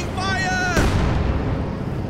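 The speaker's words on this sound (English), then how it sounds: "bang through with an 88mm gun" An 88mm gun fires once in Company of Heroes 2, a heavy booming blast that rolls off into a long rumble after a moment of tonal voice-like sound.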